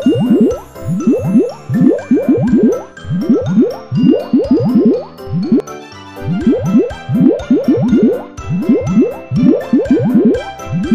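Teeth are cleansed with water in a Pororo dentist video game: rapid, bubbly squishing and dripping bursts in quick clusters, loud and close, repeating rhythmically over bright game music.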